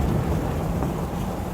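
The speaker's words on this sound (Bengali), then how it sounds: "ঠিক তার মিনিট 10 পরেই আকাশ ভেঙে বৃষ্টি শুরু হলো" Heavy thunderstorm rain pours down with gusty wind, a steady, loud, dense wash of low rumbling noise and no voices.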